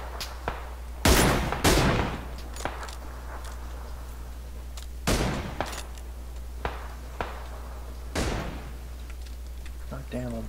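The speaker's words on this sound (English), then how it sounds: "No, he's shooting at us." PUBG gunfire crackles in several loud, sharp bursts spread across the stretch, mixed with quieter single shots and ticks, while players talk over it.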